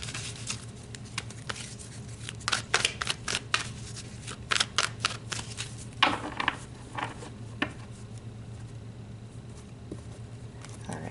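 Tarot cards are shuffled in quick soft bursts of riffling and patting, close and fairly quiet over a faint room hum, with pauses between the flurries.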